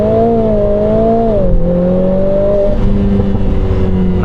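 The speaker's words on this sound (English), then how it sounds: "we will do launch control when we leave" Lotus Emira sports car with a supercharged 3.5L V6 and manual gearbox launching hard, the engine loud and close as it climbs steadily in pitch, drops briefly on a shift, then pulls again with no talk over it.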